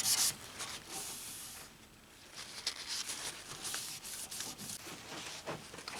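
Fine 600 to 2000 grit wet sandpaper rubbing over the headstock of a 1958 Martin guitar, a steady soft scratchy swish that runs continuously at moderate level with slight surges, no talking.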